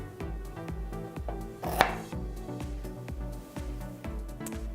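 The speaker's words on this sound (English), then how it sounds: "Now I'm going to cut up my parsnip." Knife chopping parsnip on a cutting board, a steady run of crisp, evenly spaced knocks close by, with one sharper clack partway through.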